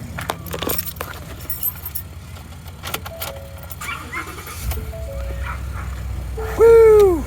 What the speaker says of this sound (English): All right, keys.